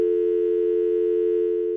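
Telephone dial tone after hanging up: one steady, loud, unbroken electronic hum that continues alone without pause.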